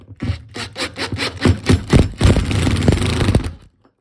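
Screw being driven into a GRIPIT plasterboard fixing, a series of close scraping, rasping turns with short pauses between them that merge into a steadier grinding stretch before stopping.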